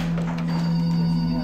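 A telephone rings steadily through the whole moment in an office setting, a continuous tonal ring that sounds loud and close.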